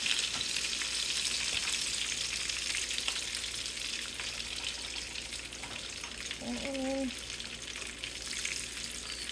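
Chicken fried steak frying in oil in a pan, a constant close sizzle and hiss under intermittent talk, with a brief higher tonal sound near the end.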